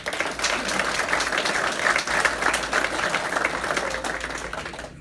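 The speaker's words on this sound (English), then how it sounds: "So give yourselves a round of applause." A crowd at a charity ALS golf outing applauds in a steady burst of many clapping hands, rising slightly and then tapering off at the end.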